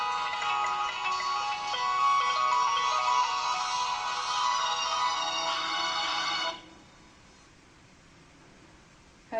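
A phone rings on a radio call-in show as a listener's call comes through, a steady electronic ringtone pattern that plays loudly for several seconds, then stops abruptly and leaves a quiet background.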